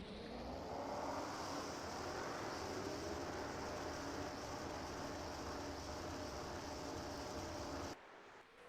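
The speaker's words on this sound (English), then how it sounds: "Alright, field is fired up. All 42 engines ready to get this race started." Forty-two V8 Cup stock car engines idle together at Atlanta Motor Speedway in NR2003 racing, a dense steady roar that holds throughout, then drops abruptly near the end.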